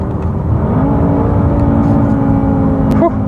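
A loud BMW V8 engine rumbles and revs, its pitch shifting upward partway through as the gear drops, then cuts briefly near the end.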